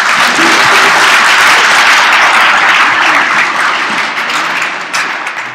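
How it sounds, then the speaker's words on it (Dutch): Loud, sustained audience applause for a presenter at a talk in Den Bosch, steady dense clapping that tapers slightly toward the end. "applaus voor Dirk."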